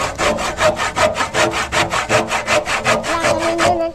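A hand saw cuts through wood in quick, even back-and-forth strokes, about four per second, rasping close by with no voices.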